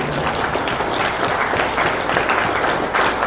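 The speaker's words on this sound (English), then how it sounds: "Let's give them a better round of applause on that." A seated audience applauds the planning committee at the opening ceremony of a diaspora engagement conference: dense, steady clapping from many hands that fills the room evenly from start to finish.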